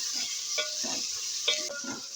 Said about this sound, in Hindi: अब मैं इसमें डाल दूंगी चिकन। चिकन मैं करूंगी फ्राई।